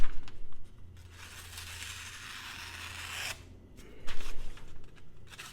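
A Tactile Knife Co Rockwall pocket knife slices through paper in one continuous rasping cut lasting about two seconds, followed by short scraping rustles, close up.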